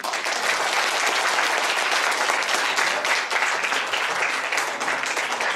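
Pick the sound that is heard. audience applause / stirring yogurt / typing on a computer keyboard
audience applause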